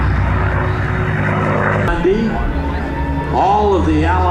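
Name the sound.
P-51 Mustang airplane flying past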